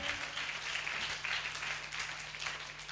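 A church congregation clapping hands together in worship at a Friday meeting, a steady, fairly faint crowd of claps lasting throughout with little else heard.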